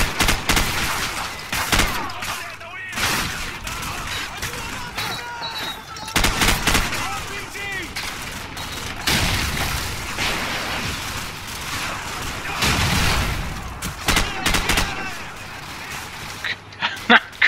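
Rapid bursts of gunfire in Call of Duty 4: Modern Warfare, dense crackling volleys with brief pauses, mixed with game effects and a voice talking intermittently.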